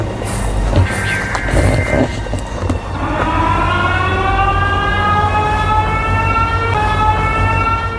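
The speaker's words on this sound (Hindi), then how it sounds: "I hear like a police siren or something." A wailing police siren rises and holds a steady, loud tone over a low traffic rumble, continuing for several seconds.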